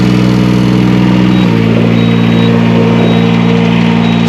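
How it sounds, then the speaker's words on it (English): A Palazzani Spimerica TSJ-82 tracked aerial lift hums loudly and steadily as its boom raises, its engine and hydraulics note shifting and settling about a third of the way in, with no talking. "we're going to go ahead and raise the boom up"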